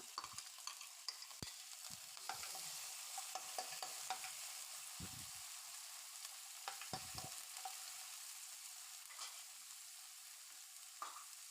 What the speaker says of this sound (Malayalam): ഇപ്പോൾ എണ്ണ നന്നായിട്ട് ചൂടായിട്ടുണ്ടേ ചെറിയുള്ളി ഇട്ട് ഇട്ട് കൊടുത്തിട്ട് ഒന്ന് വഴറ്റി കൊടുക്കാം